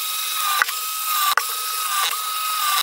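A ratchet driver clicks steadily while tightening the last four screws on a replacement part of a Libreflip book scanner build, with three brief pauses where the handle resets.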